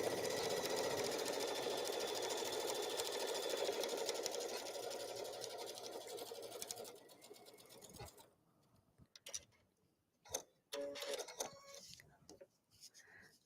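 A sewing machine stitches a seam in a steady, close, fast-running whir for about seven seconds, then falls silent and gives way to sparse handling clicks and rustles.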